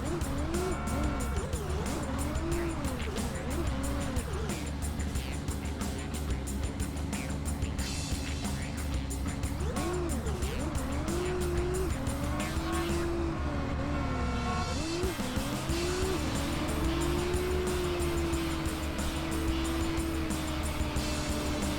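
Car engines whine and rev in The Italian Job video game, a continuous loud drone with rising and falling pitch as gears change, layered with game music.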